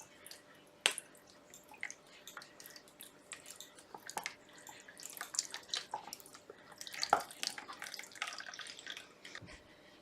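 Water poured off a still-hot paper clay mixture made for a pumpkin, with close, intermittent splashes, drips and small knocks spread unevenly over several seconds.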